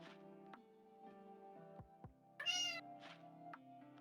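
Cat meowing in a tabletop role-playing session: several drawn-out, close meows in a row, with one louder, brighter cry near the middle, mostly alone.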